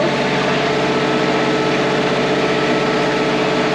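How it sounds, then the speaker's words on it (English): A boat's generator running steadily after a restart at sea on the Atlantic, a loud continuous droning engine hum with a constant pitch, close by with no voices over it. "Darren got the generator to go."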